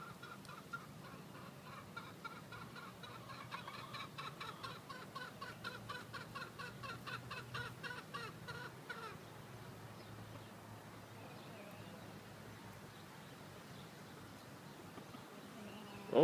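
Chickens and a rooster on a small farm clucking softly in quick repeated bursts for the first half, then quieter background sounds, faint and at a distance.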